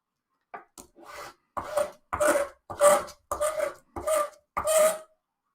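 Sandpaper rubs against the wood of a vintage classical guitar in seven rhythmic, raspy strokes, each a short scratchy burst separated by brief silences, close and clear.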